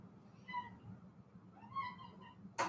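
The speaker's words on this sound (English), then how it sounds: "Let me open the door for my cat because he's dying." A house cat meowing at a door, giving two drawn-out, fairly clear meows followed by a sharp bump, alone with no talk.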